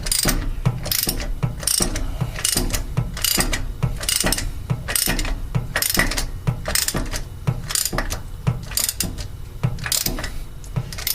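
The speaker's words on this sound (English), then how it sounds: "tighten it up, installing that new anode into that valve flange" A ratchet wrench tightening a new brass anode into the cast valve flange of a Darley LDMBC fire pump, giving a close, steady series of clicking pawl strokes with brief pauses between pulls.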